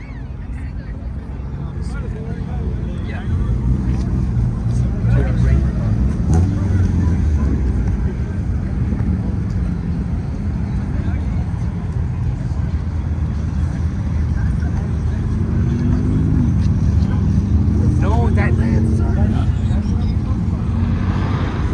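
Supercars including a Toyota Supra, a Mercedes-AMG Benz and a Genesis G70 pass in Florida, engines rising and fading over steady road and wind noise while people talk nearby.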